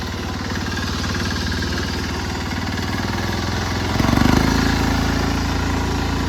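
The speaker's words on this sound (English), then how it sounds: "I have no idea if you can hear me over this diesel. This thing is pretty loud." A diesel mud mower engine runs loud and close with a steady chugging drone that swells briefly as it is worked while bushwhacking through thorn bushes, with no speech over it.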